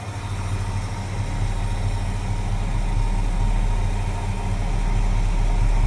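A 1961 Ford Galaxie Sunliner convertible's 390 V8 with a 4-barrel carburetor idles smoothly and steadily up close, a constant low rumble with no voices over it.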